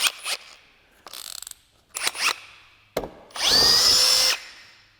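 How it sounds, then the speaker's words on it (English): A hammer drill fitted with a quarter inch bit spins up in a few short bursts with ratcheting clatter, then runs in one loud, steady whine for about a second; no talking. "Let's throw it on the hammer drill"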